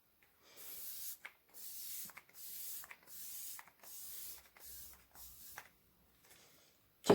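Garnier Rose Soothing Glow Mist facial setting spray misted onto the face in about eight short, soft hissing bursts, close and quiet, with brief pauses between them.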